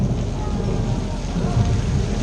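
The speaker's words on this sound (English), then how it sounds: "But really the most important effect is the rain." Staged rain effect on the Universal Studios Hollywood backlot tour, a steady loud wash of falling water and low rumble filling the whole moment, with no distinct thunder crack standing out.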